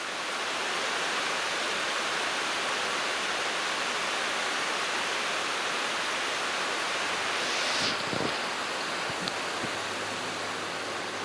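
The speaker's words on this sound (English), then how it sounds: "Look at that, just a lovely shower." A steady rain shower falls over an Australian paddock as a dense, even hiss that never lets up, with a few faint knocks partway through.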